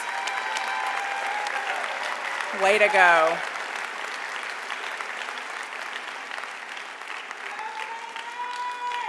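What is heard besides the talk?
commencement ceremony audience applauding a graduate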